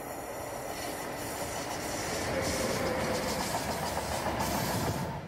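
An ÖBB Class 1216 Taurus electric locomotive rolls steadily past on rails, a continuous loud rumble with a faint electric whine and rail noise throughout.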